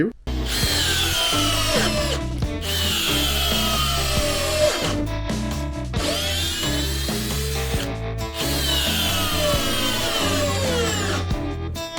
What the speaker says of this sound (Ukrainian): ми перевіримо, на якій батареї краще працює даний шурупокрут на 2 Ампер годин чи на 4 Ампер годин